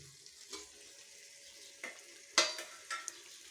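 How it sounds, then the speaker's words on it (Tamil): Tomatoes sautéing in a pan for a chicken biryani, a soft low sizzle with a few sharp stirring scrapes and clatters of the spoon, close and fairly quiet. "இனி இந்த தக்காளியை வதக்கிடலாம்"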